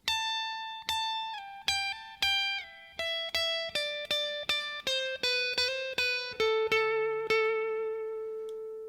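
Electric guitar plays lick 7 of a solo, a descending run of bright picked notes in steady rhythm with slides, ending on a longer held low note, close and alone.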